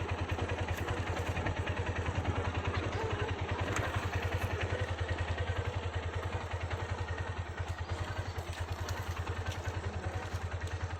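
A learner's motorcycle idles with a steady low, rapid putter as the clutch is eased out, running quietly and evenly throughout.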